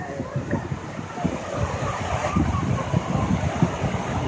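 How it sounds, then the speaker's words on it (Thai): Sea waves wash steadily onto a beach in Mumbai during a Ganesh Chaturthi gathering, a continuous rushing surf mixed with wind buffeting the microphone and a busy crowd murmur nearby. "นี่เลยฟังเสียงทะเลเลยนะ"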